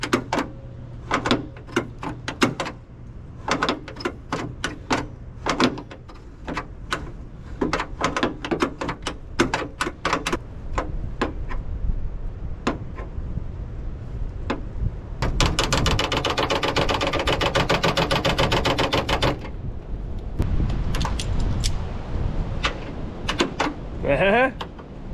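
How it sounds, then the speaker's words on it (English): Heavy door of an old International Loadstar truck, sat unused for over twenty years, being worked repeatedly open and shut, producing many sharp metallic clunks and creaks in rapid series, with a long grinding stretch midway. "Keep lubing this thing up and working it before I shut the door again"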